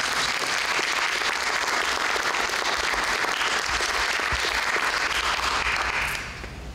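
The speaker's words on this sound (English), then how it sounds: "if we could also give a round of applause for our panelists who are passionate" An audience claps for panelists at a mental health and substance use panel, a full, steady roll of applause that holds strong, then eases slightly near the end.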